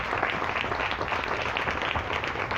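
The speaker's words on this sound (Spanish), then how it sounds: "Vamos a darle un aplauso al Señor." A church congregation applauds during a Spanish-language service, a steady wash of clapping with faint voices beneath, moderately quiet and continuous.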